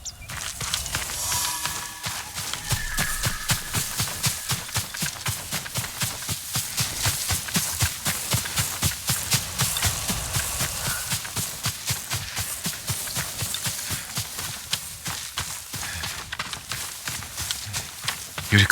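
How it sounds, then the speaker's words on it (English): A horse gallops steadily in Ghost of Tsushima, a continuous fast run of close clip-clop hoofbeats lasting the whole stretch with no pauses. "Yuriko's horse."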